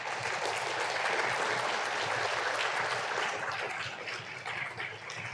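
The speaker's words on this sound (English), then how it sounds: "show your appreciation for family, friends, and academic team with a round of applause" Steady applause from graduates and guests at a university congregation ceremony, a continuous wash of many hands clapping at moderate distance, even and sustained throughout.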